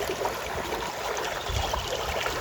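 A stream of dirty water runs out of a forest, making a steady, close, gurgling flow with a few low splashes partway through and no voices.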